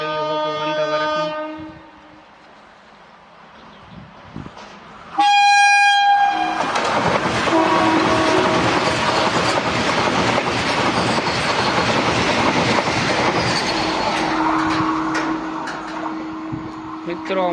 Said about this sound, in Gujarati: મિત્રો અમુક સેકન્ડોમાં જ વંદે ભારત પાસ થઈ ગઈ છે, ટ્રેક થઈ ગયો છે ખાલી.